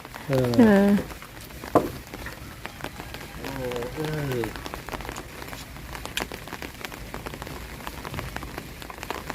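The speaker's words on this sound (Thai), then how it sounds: "ฝนตก" Steady rain patters on a surface throughout, with a few brief voices calling out near the start and middle.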